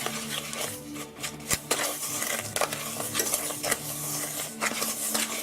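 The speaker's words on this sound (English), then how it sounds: "So let's stir this together." A spoon stirs a brown sugar mixture in a bowl for gluten-free chocolate snow cap cookies, making repeated scraping and clinking strokes with some irregular knocks against the bowl. It is fairly close and moderately loud, with no talking.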